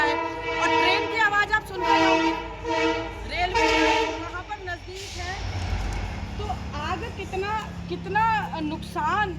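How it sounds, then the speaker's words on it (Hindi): A train horn sounds in repeated blasts close by, with the rumble of passing rail cars underneath and voices talking over it. "और ट्रेन की आवाज़ आप सुन रहे होंगे, रेलवे यहाँ पर नज़दीक है।"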